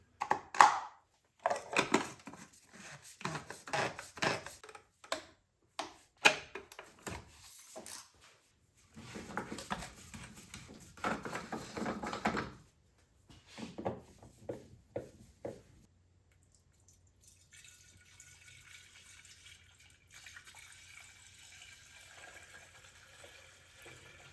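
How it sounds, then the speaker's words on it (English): Mineral oil poured into the oil filter housing of a rebuilt BMW N20 engine makes intermittent, close trickling and glugging bursts, then trails off to a faint low hum. "going to start by pouring some oil into the oil filter housing"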